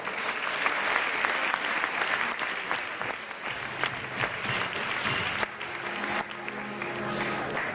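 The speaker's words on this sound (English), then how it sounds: "Big round of applause" An audience at a medical students' conference applauds in a sustained, loud, even clatter of many hands that tapers slightly near the end, with faint tones underneath.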